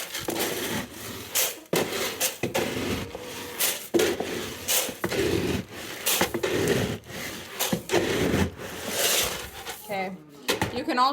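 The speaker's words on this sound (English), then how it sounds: "I'm just going to dump the oyster shells in here and mix them around" Oyster shells are poured into chicken feed and stirred around during hobby farm chores, giving a run of close, crunchy rattling and scraping bursts in short repeated scoops, with a person talking intermittently over it.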